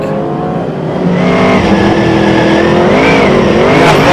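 Superstock race cars roar around a speedway track during a teams racing night, engines loud and close, revving and surging steadily with rising pitch as the cars accelerate.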